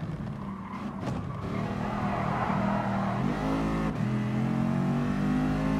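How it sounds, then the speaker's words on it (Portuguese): Mercedes VGT race car in the GT Sport racing game, its engine revving hard and steadily with rising and falling pitch through gear changes, loud and continuous, with a brief tire squeal, no talking. "E esta Racing Series vai ser o um novo carro do Batman"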